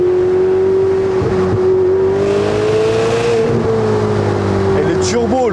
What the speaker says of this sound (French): Et les turbos, le souffle des turbos, c'est incroyable.